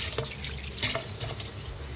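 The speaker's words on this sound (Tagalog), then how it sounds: "Hugasan natin yung bigas." Rice being washed under running tap water, a steady close splash and trickle into a bowl or sink with small sloshing and dripping accents over two seconds.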